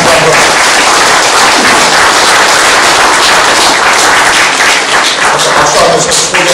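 Dense, sustained applause from a large crowd, loud and steady throughout with no pauses.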